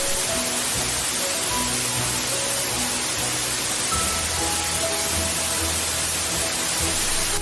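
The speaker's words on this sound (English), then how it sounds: "The water runs into the dam and turns these huge wheels called turbines." Water rushes through a river dam at a power plant as a dense, steady roar of broadband noise, loud and unbroken, with faint tonal hums beneath it.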